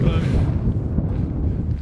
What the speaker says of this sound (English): a little bit windy, should I say?